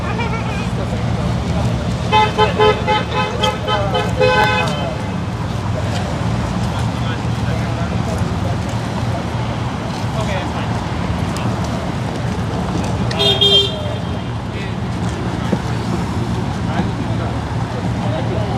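Cars lining up in position, with steady engine rumble and traffic noise throughout and short bursts of horn honking near the start and again later; people talk over it.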